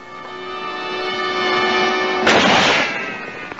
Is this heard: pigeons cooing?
no